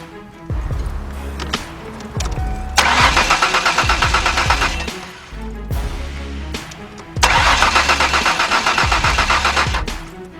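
Car engine cranking repeatedly without catching: two long bursts of rhythmic starter whirring with pulsing compression beats, separated by brief pauses, loud and close with no talk.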